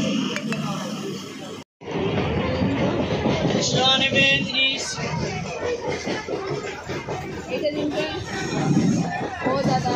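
A train rumbles at Naihati railway station, clattering continuously beneath a crowd's busy chatter and nearby voices talking, with a brief drop to silence early on.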